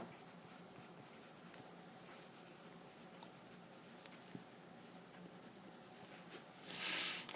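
Pen scratching out a polynomial equation by hand, faint soft strokes and taps running throughout at low level, with a brief louder rustle near the end.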